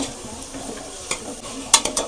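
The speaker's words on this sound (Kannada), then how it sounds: "ಈಗ ಇದಕ್ಕೆ ಅವರೆಕಾಳನ್ನ ಹಾಕೋತಾ ಇದ್ದೀನಿ" Field beans tossed into a hot frying pan with wilted ingredients and stirred by hand for a festive Sankranthi dish: a soft steady sizzle under scraping, with a few sharp spoon-on-pan clinks near the end.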